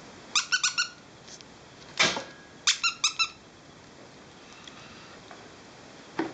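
A squeaky dog toy squeezed in quick bursts of two to four sharp, shrill squeaks, with a single squeak between groups and a faint one near the end, close up in a quiet room.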